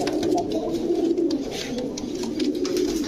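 Domestic pigeons coo continuously in low, throaty rolling calls, several birds overlapping close by with a steady murmur underneath.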